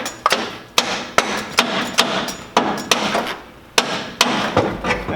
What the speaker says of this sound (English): Fancy hammer works.